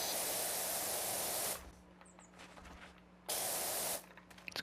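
A pressure washer sprays in PowerWash Simulator 2, a loud, broad hiss in two bursts separated by a quiet gap.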